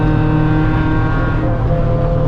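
Race car engine at Mid-Ohio coming back on throttle after a quick brake into turn 11, a loud, steady close-up drone with layered harmonic whine throughout.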